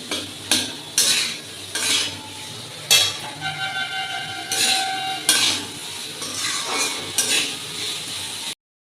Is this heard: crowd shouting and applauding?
no